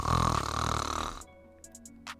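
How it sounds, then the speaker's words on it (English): A man snoring in a Vampire: The Masquerade tabletop session, one long, loud, rasping inhale that cuts off abruptly, followed by a few faint short clicks and breaths. "you just hear the guy actively snoring."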